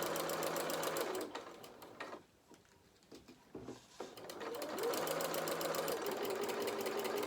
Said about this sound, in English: And then I'm just going to sew up to that red pin, first red pin.